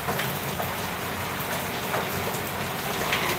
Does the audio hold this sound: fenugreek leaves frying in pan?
no